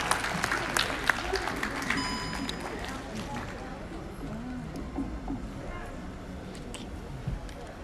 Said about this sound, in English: Please clap for them as they come